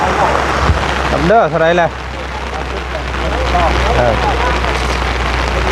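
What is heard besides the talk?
rain falling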